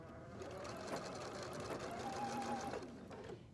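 A sewing machine runs steadily for several seconds, stitching neck binding onto a T-shirt with a quarter-inch seam, its motor hum and needle chatter close and continuous with no talking.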